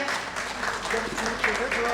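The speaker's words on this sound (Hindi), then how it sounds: "एक बार जोरदार तालियां दीजिए मेरे भाई को।" Audience applause after a poetry recital, brief steady clapping with voices mixed in.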